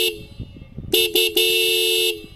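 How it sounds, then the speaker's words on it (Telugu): Horn of a 2024 Bajaj Pulsar 150 dual-disc motorcycle, loud and close: two short toots followed by a longer steady blast, with quiet surroundings before it. "హార్న్ యొక్క లౌడ్నెస్ అనేది ఎలా ఉందో ఒకసారి అయితే చెక్ చేద్దాం."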